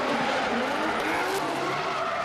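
Drift race cars skid through a corner at Baypark Stadium during a D1NZ Pro-Sport drift event, a loud sustained tyre squeal over revving engines with a brief sharper burst midway, no talk.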